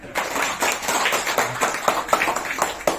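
An audience at a sales training session claps in scattered, uneven bursts, individual hand claps standing out against a light patter.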